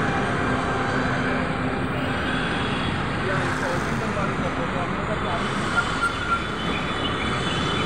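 A metro train rolls along an elevated line near Badshah Nagar station in Lucknow, a steady broad rumble and rush filling the whole stretch with no clear start or end.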